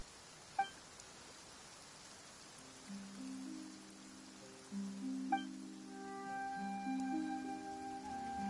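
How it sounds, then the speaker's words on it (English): Soft, steady rain falls in Genshin Impact with a continuous hiss of drops. Faint chimes ring out and gentle sustained music tones come in partway through. "Why is it raining all of a sudden?"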